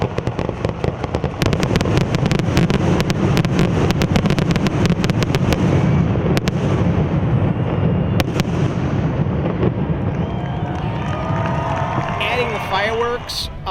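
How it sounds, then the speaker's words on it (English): A fireworks show over Lake Orion, with dense crackling and repeated sharp pops and bangs sounding nearby and loud, under a constant roar of crowd noise and some voices. "Fireworks,"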